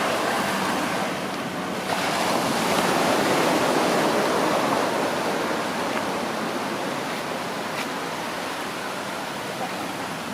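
Ocean waves roll in at high tide on a Mazatlan beach as a dense, steady roar of surf, loud and close, with a brief swell in the middle and no voices.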